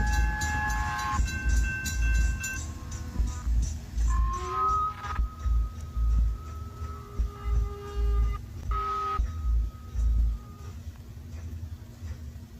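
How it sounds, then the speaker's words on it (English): A train rolls past at night, its low rumble pulsing in rhythmic swells for over ten seconds, with sustained whistle-like tones drifting above it and no voices. "Train goes by."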